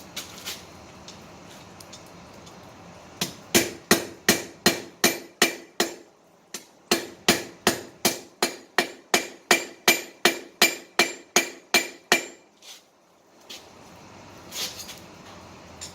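The flat face of a hammer strikes hot steel on an anvil while a chef knife is forged. A few scattered blows are followed by a long, fast, even run of about twenty ringing metallic strikes, then a pause and a couple more hits.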